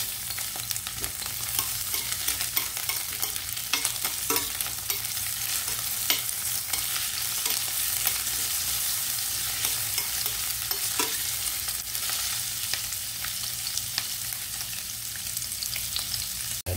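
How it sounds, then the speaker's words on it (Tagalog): Onions sautéing in a pan for a kangkong and sardine dish, a steady close sizzle with frequent stirring scrapes and clicks throughout, no voices. "Gisahin muna natin ang ating sibuyas."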